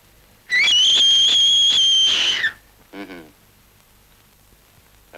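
In a 1947 Soviet war film, a man gives a loud, piercing whistle lasting about two seconds with a slight warble. A shorter, fainter whistled sound follows after a pause.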